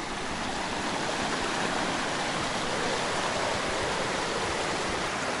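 Steady, full-bodied rush of a stream flowing over water-carved rocks, a constant broadband wash that stays even and close with no voices throughout.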